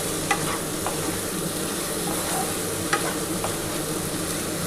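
Sizzling and stirring in a pan as cauliflower goes in among frying prawns, a steady close hiss with a few sharp scrape clicks from the spoon.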